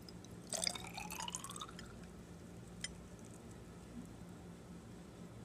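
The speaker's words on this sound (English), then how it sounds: "I'm going to put it into my test tube." Apple juice poured from a container into a glass test tube in a school lab: a brief liquid trickle with small splashy drips lasting about a second, then a single faint clink, otherwise quiet room tone.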